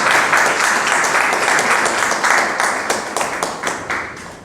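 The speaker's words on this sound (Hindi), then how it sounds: "तालियां जबरदस्त होनी चाहिए" Dense, loud applause from the audience at a Modicare business meetup in Kaimganj, steady throughout and slowly tapering toward the end, with no talk over it.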